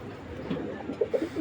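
A big pair of army pigeons gives soft, low, throaty coos, a few short calls close by and fairly quiet, with no talking.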